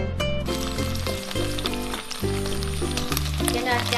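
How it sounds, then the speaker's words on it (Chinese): Marinated shrimp hit a hot pan and fry with a steady, close sizzle that holds throughout, with no one speaking. "锅热了之后呢，把虾放下来煎。"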